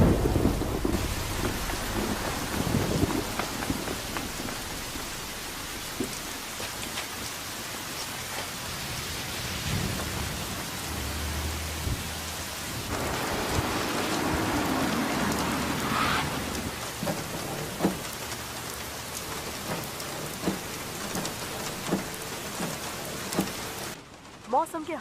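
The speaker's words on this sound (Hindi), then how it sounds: "सियोल का मौसम देख के ऐसा लगता है कि ये बारिश थमने नहीं वाली।" Heavy rain over Seoul with a thunderstorm: dense, steady downpour hiss throughout, with rolling thunder rumbles early on and midway, loud and close, and no one speaking.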